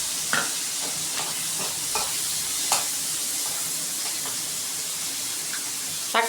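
Capsicum and beans sauté in a pan for masala macaroni, giving a soft, steady sizzle with occasional stirring clicks and scrapes of a utensil, fairly quiet and without talk.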